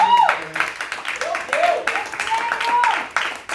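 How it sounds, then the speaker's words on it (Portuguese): A church congregation claps for Jesus during an energetic Portuguese-language sermon, a steady wash of hand claps running under sustained, sung-out preaching from the pastor at close range. "Salve de palmas para Jesus."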